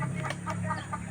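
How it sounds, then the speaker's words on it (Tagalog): A native chicken clucks softly in a brief burst of a few low, quick clucks, faint and close, with no speech. "Yan ang aming native na chicken"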